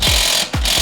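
A burst of impact wrench hammering as the strut pinch bolt on an Audi comes out with an impact-rated socket, loud and close, with two sharp rattling runs split by a brief gap.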